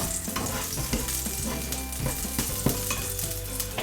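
Oil heats and sizzles in a pan as the base for butter chicken sauce, a bright crackling fry close by with irregular stir scrapes and pops throughout, no speech.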